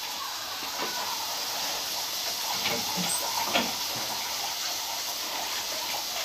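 Onions fry in a pan in a Bengali home kitchen while fish is cooked, giving a steady hiss and sizzle with a few faint clinks.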